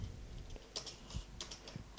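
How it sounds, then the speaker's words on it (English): Typing on a computer keyboard, done one-handed: a few quiet, close key clicks tapped in an irregular rhythm over a soft background hum, with no talking. "One hand typing for the win."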